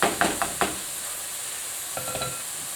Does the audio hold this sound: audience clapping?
no